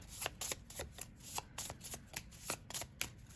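Tarot cards shuffled by hand during a reading, a faint, steady riffling of soft papery flicks repeating quickly and close, with no voices over it.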